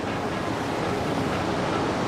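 Strong wind of about 80 miles an hour roars steadily in typhoon-like conditions near the ocean, a dense, unbroken rushing noise with surf-like texture and microphone buffeting, loud and continuous with no voices.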